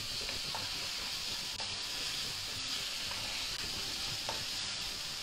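Chilli garlic prawns sizzle steadily in a pan with sugar, a constant close frying hiss while occasional scrapes of stirring come through, no talking.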